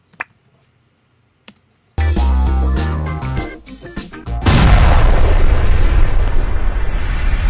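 An explosion sound effect bursts in with a heavy boom, then rolls into a loud, sustained roaring blast and rumble after a few faint clicks in near silence.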